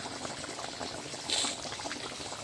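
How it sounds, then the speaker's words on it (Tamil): A pot of seer fish curry bubbles quietly at a gentle boil, soft steady popping and simmering close by, with a brief hiss midway. "நல்லா கொதிக்கட்டும்"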